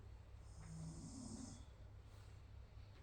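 A person snores softly during a lower-body mobility and strength workout, one slow rasping breath swelling and fading, faint and close with no talk.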